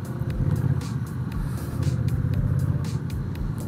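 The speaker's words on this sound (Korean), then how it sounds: "스탠다드 모드로 한번 설정을 해봤습니다. 뭐 리어가 미끄러지는 한이 있어도 한번 당겨 보겠습니다." A Honda Rebel 1100 cruiser motorcycle accelerates in standard mode, a steady deep engine rumble and exhaust drone filling the whole stretch, close and loud.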